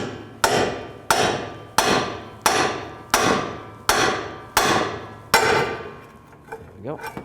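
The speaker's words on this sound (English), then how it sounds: "just hit it with a hammer" Seven sharp metallic hammer blows strike a Chrysler 200 ball joint at a steady, roughly once-per-second rhythm, each ringing briefly before the next, followed by a softer shuffle of metal.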